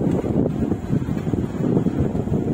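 Strong wind outdoors before rain, a steady low rumbling buffet of gusts against the microphone, continuous and fairly loud with no voices.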